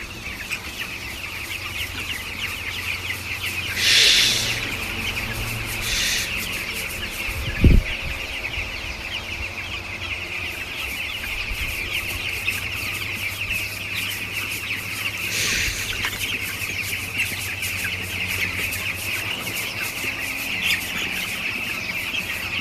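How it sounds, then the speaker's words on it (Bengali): Chickens on a farm clucking over their feed, a continuous chorus of soft clucks and murmurs with a few louder squawks and a single thump, steady throughout and without talk. "গাইস এখন দেখুন সবগুলো মুরগি খাবার খাচ্ছে"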